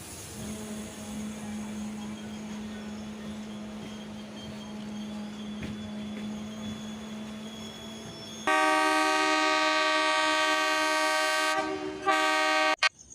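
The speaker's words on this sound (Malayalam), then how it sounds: "എറണാകുളത്തെ മെയിൻ്റനൻസ് യാർഡിലേക്ക് ഒരു ട്രെയിൻ കൊണ്ടുപോകുന്ന കാഴ്ചയാണ് ഈ കാണുന്നത്." A train passes on the Ernakulam link line near Ernakulam Junction, heading to the maintenance yard, with a steady rolling rumble that gives way to a loud, sustained horn blast near the end, followed by brief short toots.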